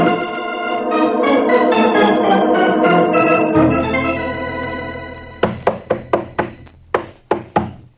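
A sustained musical passage in an old-time radio drama gives way to a series of loud, sharp knocks, about eight heavy blows pounding on a wooden door, close and distinct.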